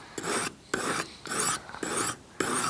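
Steel is stroked across an abrasive while sharpening a leatherworker's round head knife, five even raspy passes with short pauses between them, close and alone.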